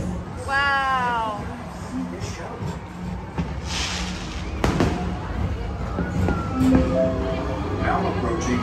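Fireworks at Magic Kingdom pop and crackle at a distance, with sharp bursts standing out against a steady murmur of voices and crowd noise.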